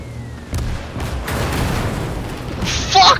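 A tank gun fires rounds in the video game Call to Arms: Gates of Hell Ostfront during a Soviet mission, several heavy booms in quick succession with rumbling battle noise between them.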